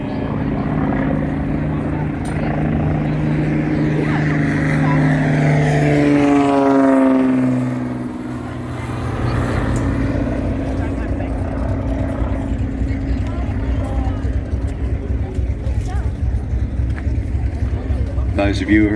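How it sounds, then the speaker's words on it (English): A Grumman Avenger, the large Navy torpedo and dive bomber, starts up at an airshow, its radial engine rumbling loud and near with a rising then settling roar as the prop spins up, while an announcer talks over the public address throughout. "can see that huge Grumman Avenger, the Navy torpedo and dive bomber, just starting up."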